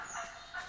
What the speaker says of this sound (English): Now I hear retarded turkeys.